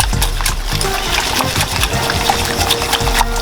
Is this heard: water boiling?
yes